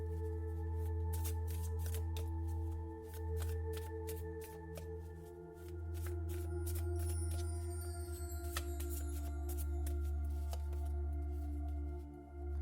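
Tarot cards being shuffled and drawn, soft repeated riffling and flicks of card stock layered over a steady hum and gentle background music, with quick crisp snaps at irregular intervals.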